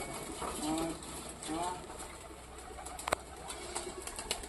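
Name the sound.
pigeons cooing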